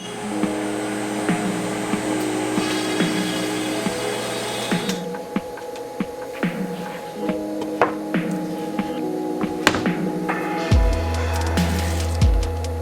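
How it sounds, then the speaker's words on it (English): A steady CNC machine drone runs throughout, with a loud mechanical hum and scattered clicks and knocks as the tool drills holes and cuts dados for kitchen cabinetry, shifting pitch partway through. "Just gonna drill holes and then cut our dados."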